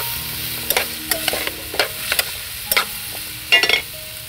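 Food being stirred in a frying pan over a steady sizzle, with a handful of sharp scraping utensil strokes at irregular intervals, close and clear, no talking.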